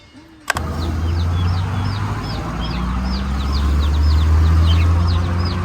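Chickens for sale in Costa Rica cluck and chirp in quick repeated calls over a loud, steady engine rumble, after a brief sharp knock at the start.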